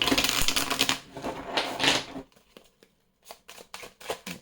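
A deck of oracle cards is shuffled close up, with two dense bursts of riffling followed by a few quieter, separate taps and flicks as the cards settle.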